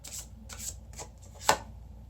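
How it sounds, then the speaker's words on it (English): A deck of tarot cards being shuffled by hand, several soft riffling bursts followed by one sharp tap of the cards squared together, close and quiet. "Oh, I gotta shuffle these ones first."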